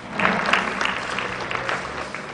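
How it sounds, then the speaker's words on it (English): Brief burst of polite applause from spectators at a junior men's 10m air pistol shooting final, scattered claps rising and fading quickly in a large hall. "One applause please."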